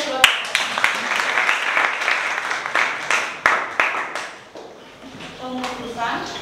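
A classroom of students claps at the teacher's request during a chemistry lesson, a moderate burst of scattered, uneven hand claps that fades out, with a teacher's voice heard over it near the end.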